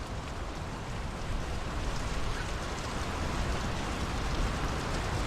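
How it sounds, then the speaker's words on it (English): Steady, dense rain in the video game Draugen pours down without a break, a broad hiss with constant spatter throughout and no voices. "The rain's picking up."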